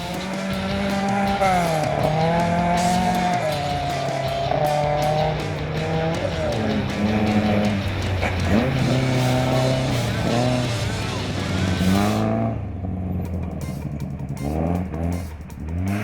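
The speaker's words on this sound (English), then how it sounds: "Another team to tame the wet and tricky stages, Van Can and Estebar, steering the Corolla to yet another round finish" Rally cars, including a Toyota Corolla and a Datsun 1600, race through wet forest stages at the 2019 Kirup Stages, their engines loud and close as they rev up and down in rising and falling sweeps.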